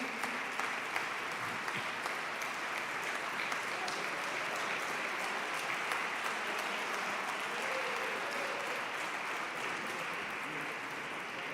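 A large crowd at a Sunday gathering gives sustained, even applause for a high school marching band, a thick continuous clatter of clapping lasting over ten seconds with faint voices buried beneath it.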